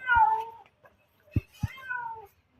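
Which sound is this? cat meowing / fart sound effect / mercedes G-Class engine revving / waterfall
cat meowing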